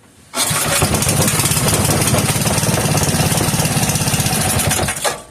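A 3hp Briggs and Stratton small engine catches and runs loud and close for about five seconds with a fast, even putter, then cuts out.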